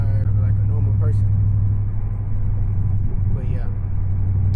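Low, steady engine rumble from a Dodge Charger Scat Pack rated at 600 hp cruising at night at about 60 mph, heard from inside the car. It holds even throughout, with a voice talking over it.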